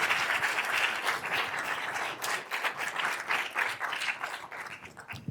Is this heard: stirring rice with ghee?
no